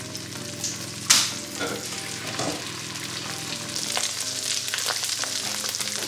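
Fish fillets, brushed with olive oil and seasoned, sizzle and fry steadily in a pan, with a sharp clatter near the start and a brief spoken word over the hiss.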